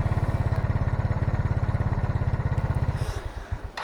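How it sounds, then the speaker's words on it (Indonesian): A Yamaha Mio Soul scooter with a weak carburetor runs close by during fuel-mixture tuning, its single-cylinder engine thumping in a fast even pulse, then the rhythm loosens and wavers near the end. "naikkan dulu RPM-nya ya, biar kita mencari campuran BBM-nya dia tidak mati ya"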